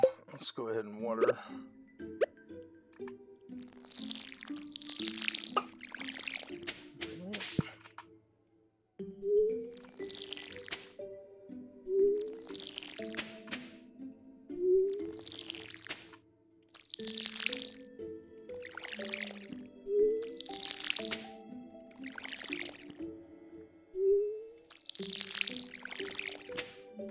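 Crops being watered with a watering can in Stardew Valley, a series of short, regular splashing pours repeated every few seconds, layered under a steadily talking voice and light game music.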